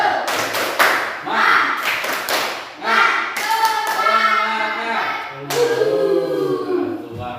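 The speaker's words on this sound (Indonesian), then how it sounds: "coba yuk kita lakukan tepuk semangat biar pembelajaran kita akan menyenangkan" A classroom of pupils performs the rhythmic 'tepuk semangat' clap, with crisp patterned bursts of hand claps and table taps mixed with children's voices chanting along in unison, loud and close.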